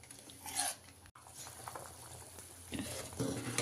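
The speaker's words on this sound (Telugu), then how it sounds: "ఇప్పుడు ఇది ఉడకాలి మంచిగా" Vegetable sambar simmering in a pot on a stove, soft bubbling and gentle patter with occasional light clinks, faint and close.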